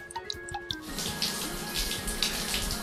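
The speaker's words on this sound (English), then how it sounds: "Oh, I sure do love taking a shower" Shower water running steadily in a VR game, a dense continuous splashing hiss that starts abruptly after a moment of quieter background sounds and then stays loud and even.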